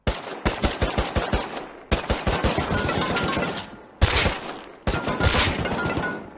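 Automatic gunfire in the survival video game Rust: long, loud bursts of rapid shots that pause briefly and start again several times, close and dominant, with no talking.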